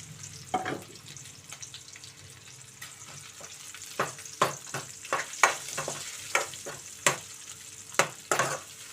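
Sliced onions and long-cut green chillies sizzle in a pan for a brinjal curry, with a steady close frying hiss punctuated by a dozen sharp scrapes and knocks of a stirring spoon, no voices.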